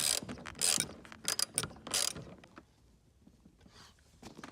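A ratchet spins off 12mm seat bolts in a Dodge Stealth, its close, loud clicking coming in quick bursts for about two seconds before fading to quieter mechanical rattles.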